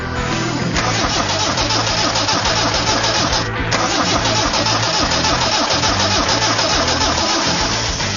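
An old Mercedes engine cranks over and over without catching, a steady loud churning starter rhythm that runs the whole time with a brief dip partway through.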